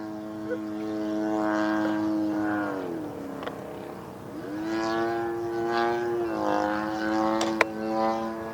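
A 77-inch span RV-8 Old Crow RC model airplane in flight, its engine and propeller droning steadily and rising and falling in pitch as it climbs and passes overhead, fairly loud and continuous.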